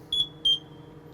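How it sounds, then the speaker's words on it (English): An SCBA low air alarm on a pumper truck's breathing apparatus gives two short, loud, high-pitched beeps in quick succession during a test, then stops. "the low air alarm is working as expected"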